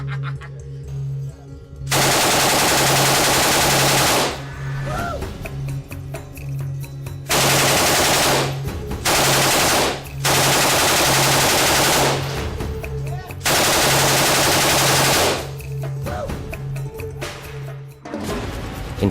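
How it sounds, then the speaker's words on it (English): An M249 SAW light machine gun in Call of Duty rattles off long, loud, close bursts of automatic fire, each stretch a few seconds long, broken by brief pauses over a steady background hum. "Infinity War has totally nailed the saw in the game, right down to the way that it sort of stutters when firing"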